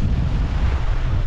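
Rough sea and strong wind at Weymouth Beach, New Zealand: a dense, loud roar of surf and buffeting wind on the microphone, continuous for a brief moment.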